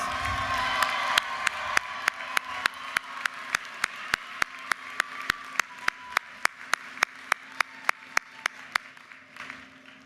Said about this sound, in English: Give Lily a round of applause.